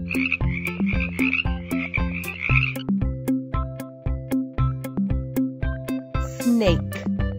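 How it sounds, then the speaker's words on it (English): Cartoon frog croaks in a kids' animal puzzle game: a rapid burst of rattling croaks followed by a regular series of evenly spaced synthetic croaks and tones, loud and clear, ending in a brighter chime. "Frog."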